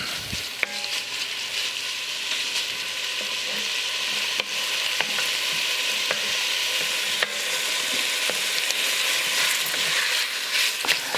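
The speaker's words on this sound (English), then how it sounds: "now we're going to get this beef, get the beef in here and get it browned." Beef browning in olive oil in a cast iron Dutch oven for beef stroganoff, a steady close sizzle with scattered sharp ticks and clinks of stirring throughout, no talking.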